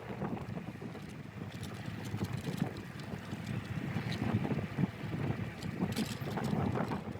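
Wind buffets the microphone while riding an iScooter iX7 Pro electric scooter on flat roads lined with trees, a low rumbling roar that swells and gusts unevenly, with no talking.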